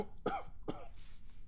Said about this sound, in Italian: Da quanto tempo avete quella tosse?